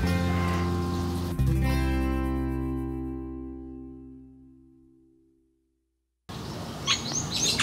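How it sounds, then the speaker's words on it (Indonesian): Sooty-headed bulbul calling, a ringing tonal call with layered harmonics that slowly decays into silence, followed by a short burst of bright chirping notes near the end. "ini adalah burung trucukan"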